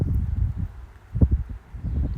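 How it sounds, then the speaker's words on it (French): Blustery wind of a northeasterly gust sweeps through leaves outdoors, producing a continuous rushing rustle that swells near the middle, loud and close with no talking. "la rafale qui est passée"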